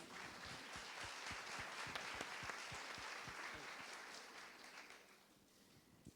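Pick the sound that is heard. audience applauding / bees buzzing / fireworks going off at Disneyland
audience applauding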